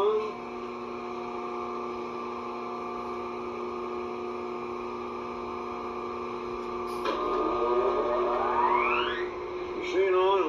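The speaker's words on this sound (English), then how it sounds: "Phase converter on." Steady electrical hum with a layered drone of a phase converter running to power a Pratt and Whitney model B lathe in a workshop, holding level throughout, with a rising whine and a few clicks near the end.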